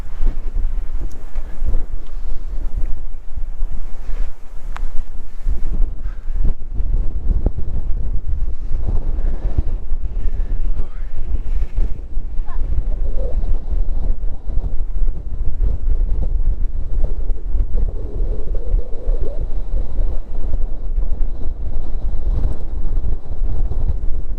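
Strong wind buffets the microphone nonstop on the Lanikai Pillbox hike in Hawaii, a loud rumbling roar with gusty bursts throughout and no talking.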